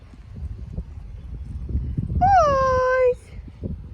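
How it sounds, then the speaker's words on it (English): A horse in a field gives one loud, close whinny lasting about a second, rising then falling, over soft background rustle and movement. "The horses are being stupid out in the field."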